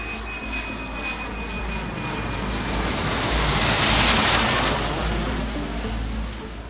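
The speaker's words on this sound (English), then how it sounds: "the Qantas flight started takeoff roll at the airport" A Qantas jet airliner begins its takeoff roll at Hong Kong Airport, a steady broadband engine roar that swells louder toward the middle and then eases slightly, with no talk over it.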